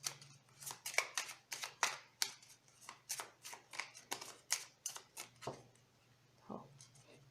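A deck of cards cut and handled at close range, giving a rapid series of crisp flicking snaps that stop before a last soft tap.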